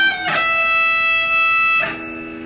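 Electric guitar plays the opening two phrases of a solo: a picked note swells into long sustained, singing tones, then a fresh attack near the end, alone with no talking.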